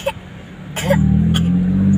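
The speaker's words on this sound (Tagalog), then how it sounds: "Inuubo-ubo pa yan." A few short coughs, one early and two more around the middle, over a steady low engine rumble like a car interior.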